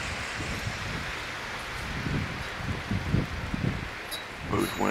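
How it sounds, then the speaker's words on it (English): Steady wind noise blowing outdoors near a pair of turning wind turbines on a cold January day, a continuous broadband rush with gusty low buffeting that swells toward the end. "Wind is finally starting to pick up a little bit"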